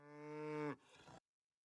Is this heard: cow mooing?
yes